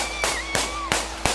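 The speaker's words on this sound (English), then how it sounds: "Shots fired" Police gunshots fired during a confrontation with a knife-wielding suspect: four sharp, loud bangs spaced roughly a third of a second apart, close by, with a tone ringing in the background.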